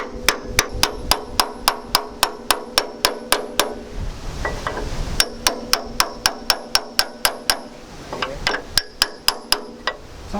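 Sharp, evenly spaced hammer blows drive a chisel, used as a wedge, against a part on a Land Rover Series 3. The strikes ring out in steady runs of roughly three per second, with brief pauses between the runs.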